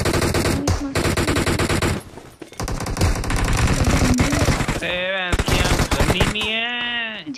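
Rapid automatic gunfire from the battle royale game BGMI, loud dense bursts that keep up for several seconds, drop out briefly, then return alongside warbling in-game tones.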